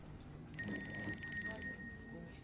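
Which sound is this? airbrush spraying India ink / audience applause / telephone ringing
telephone ringing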